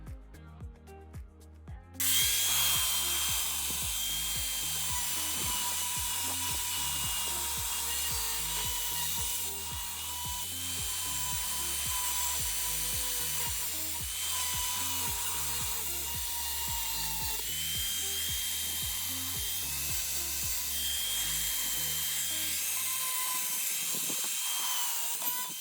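Steady, loud abrasive grinding as surface rust is taken off the underbody of a Nissan 350z, running continuously with a rhythmic pulsing texture before cutting out near the end.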